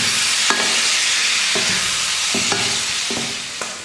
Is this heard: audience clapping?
no